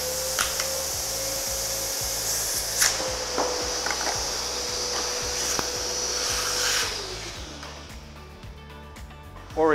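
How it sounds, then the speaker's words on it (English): A vacuum cleaner runs steadily close by with a droning whine while collecting small pieces of a cut-up PET plastic bottle, with brief rattles and clicks of plastic bits over the hum before it winds down. "We can use a vacuum cleaner."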